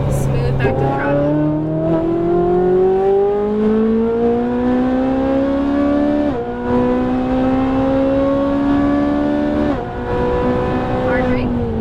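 A Ferrari 458 Italia V8 on a race track revs and accelerates loud and close, the pitch climbing steadily through the gears with two brief dips at shifts. A voice talks over the engine.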